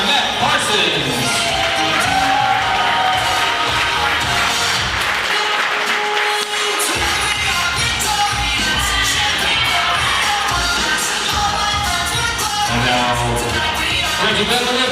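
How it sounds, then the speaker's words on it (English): Wedding guests clap and cheer throughout a dense, steady wash of applause, blended with music and crowd voices at a constant loud level. "And now a big round of applause for Hallie Gozy, escorted by Matt Parsons."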